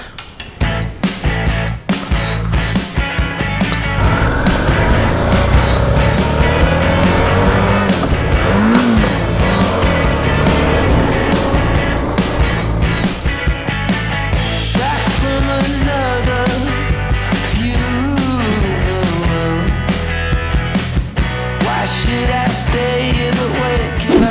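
A Suzuki V-Strom 650 motorcycle cruises along the road, its engine drone loud and steady beneath heavy wind rush, with the pitch shifting slightly as it rides on.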